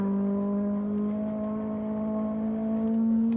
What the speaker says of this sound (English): The engine sounds a little unhappy, but still sounding good.